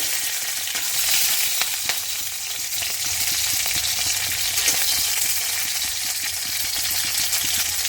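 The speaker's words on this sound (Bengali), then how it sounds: "তেলের উপর আগে লঙ্কাটা ফরং দিয়ে দিলাম দিয়ে একটু নাড়াচাড়া দিয়ে নেব" Dried red chillies fry in hot oil in a kadai as a pumpkin dish begins, giving a loud, steady close-up sizzle with occasional stirring scrapes and no voices.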